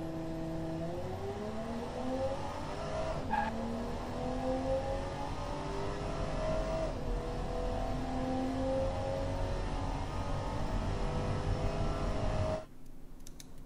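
Engine of a 1986 Athena CS4 in the Automation car game, revving hard through a quarter mile run. Steadily rising whines are broken by gear shifts, loud and continuous until it cuts off near the end.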